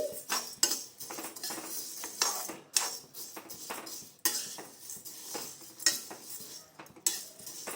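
Toor dal being dry-roasted in a heavy pan, with repeated metallic scraping and clinking of a spoon against the pan in uneven bursts, close and fairly quiet, no talking.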